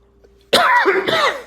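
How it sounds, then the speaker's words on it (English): A short burst of coughing breaks a near-silent pause, a few harsh, close, loud coughs in quick succession with no talk over them. "a little momentary coughing fit there."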